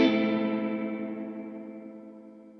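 A guitar chord through a Crazy Tube Circuits Sidekick Jr pedal set to buffered bypass rings out after switching off, a distorted, chorus-tinged tail that fades slowly rather than cutting off, alone and close.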